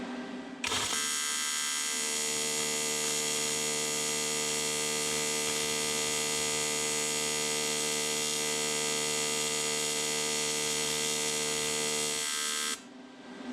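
Stick welding a plate for a supercharger build, heard as a steady, harsh electrical buzz with a strong hum that starts abruptly, holds evenly for about twelve seconds and cuts off.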